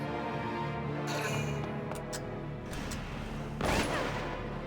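A single sharp sniper gunshot cracks out from an enemy in the Valkyria Chronicles video game, one loud broadband burst rising over steady game music and ambient battlefield sound.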